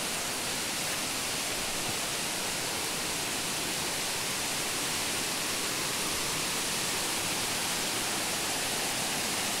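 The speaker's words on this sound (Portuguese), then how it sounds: "A água aqui, ó, ela sai de dentro dessa daquela lapa ali, daquela gruta, e ela desce por aqui" Water from an underground stream rushes out of a cave mouth in the Varzelândia region of Minas Gerais, Brazil, a steady, loud, broadband roar like a small waterfall running continuously and close by with no break.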